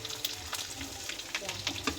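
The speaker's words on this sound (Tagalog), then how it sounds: "Titrito natin yung baboy mga kabatang." Pork sizzles and crackles in a hot pan, a steady hiss with scattered sharp pops, fairly quiet and close.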